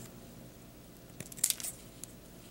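Scissors snip at sculpted modelling material for wood-plank bases, barrels and chests, a brief cluster of quiet crisp cuts near the middle of a soft background, with a faint extra snip after.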